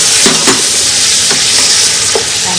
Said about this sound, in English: Now I'm going to add the tomatoes and the chilli together